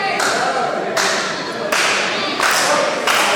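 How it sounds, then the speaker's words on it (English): The crowd at a wrestling event roars in a steady wash of noise that swells and dips in regular pulses, like rhythmic clapping or chanting, with a voice faintly underneath. "Crowd ramping up."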